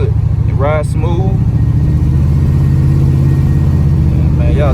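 A Box Chevy car engine hums while driving, with an untuned carburetor, producing a steady low drone from start to finish as someone talks over it in the first half and briefly near the end.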